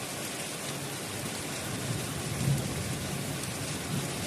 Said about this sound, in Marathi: हा पहा कसा पाऊस पडत आहे